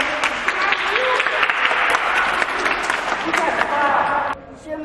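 Schoolchildren clap together in a classroom, a lively patter of many small hands with voices mixed in, before the applause cuts off abruptly and a quieter stretch follows.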